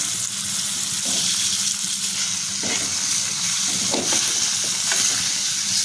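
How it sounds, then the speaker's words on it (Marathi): Rani fish sautéed and turned in a thick masala for a sour mango fish curry, giving a steady close sizzle with intermittent scraping stirs of the spoon against the pan, no voices. "मसाल्यांमध्ये मच्छी आपली छान परतून घ्यायचे"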